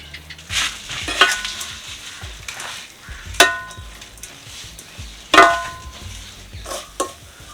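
Boondi being stirred into thick sugar syrup in a pot for Tirupati laddu: a soft, continuous scraping and sticky churning, broken by a few sharp spoon clinks against the pan, close and fairly quiet with no talking.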